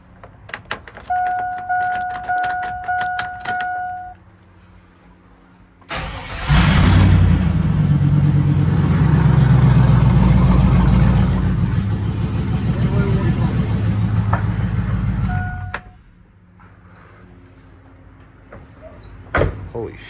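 A turbocharged Chevrolet Silverado with 1000cc injectors fires up for the first time, its loud, rough engine roar running steadily for about ten seconds before cutting off. Keys jangle and a door sounds before and after it.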